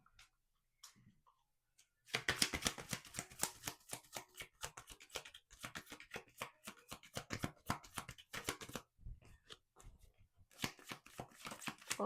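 A deck of reading cards is shuffled up close in quick crisp riffles and rapid flicking bursts, with short pauses between rounds, fairly quiet and with no talk.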